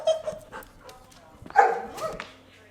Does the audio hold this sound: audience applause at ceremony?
no